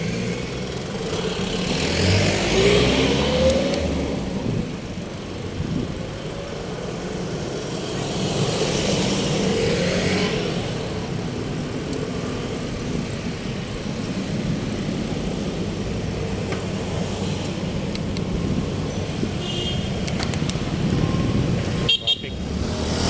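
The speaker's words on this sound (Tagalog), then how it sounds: "Traffic." Road traffic heard from a bicycle on a New Year's Day bike tour along a baywalk: a constant wash of passing cars and engines, with a few short horn toots in the distance and faint background chatter.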